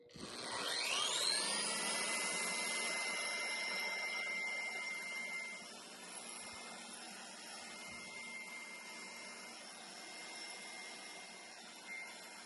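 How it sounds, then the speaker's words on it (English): Revvstark drywall sander with vacuum dust collection starts up with a rising whine, then runs steadily as a loud, continuous motor-and-suction drone with a high tonal whine throughout. "So that's the Revvstark Drywall Sander with vacuum."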